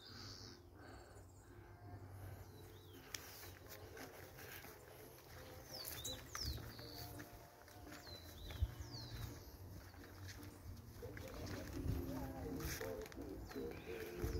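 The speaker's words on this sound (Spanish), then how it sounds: "Muchas aves, pueden hacer avistamiento de aves." Birds call in a nature reserve on a hiking trail, including dove-like coos and scattered chirps, fairly faint against outdoor ambience, with people talking at moments.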